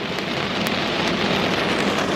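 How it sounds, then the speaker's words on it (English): Slushy hail and rain pelt a Tesla car early in the morning, a steady dense patter of drops on the body with no talking, even and close throughout. "I have never seen hail at 7:45 in the morning."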